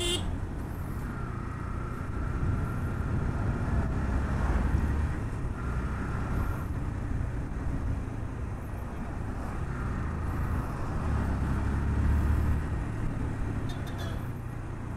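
A Yamaha FZS-V2 motorcycle on a test ride just after servicing and an engine oil change, its engine and road rush droning steadily and close throughout with no clear break.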